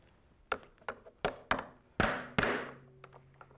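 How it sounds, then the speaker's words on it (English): A hammer strikes a setting tool that curls a metal rim over on a DIY room divider: six sharp metallic taps in a steady, quickening series, close and fairly loud, each ringing briefly before a faint tail. "The set's gonna curl that metal over the top and form a nice little rim, like this."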